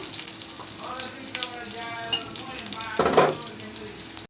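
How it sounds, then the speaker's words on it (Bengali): Chopped onion and garlic frying in a pan for a pointed gourd dish: a constant close sizzle with a few stirring scrapes and a louder burst of spatter near the end. "এবার আমি একটা পেঁয়াজ আর অল্প রসুন কুচি বেঁধে নিচ্ছি এই তো পেঁয়াজ আর রসুন ভাজা হয়ে গেছে"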